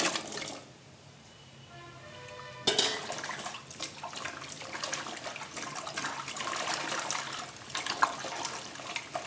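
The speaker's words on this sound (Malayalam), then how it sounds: "ഇനി ഇതിനെ നമുക്ക് നന്നായിട്ട് കഴുകിയെടുക്കാം" Cut raw papaya pieces get washed in water in a home kitchen: after a brief faint stretch, running water and splashing rise and continue unevenly, with occasional knocks, and no one speaks.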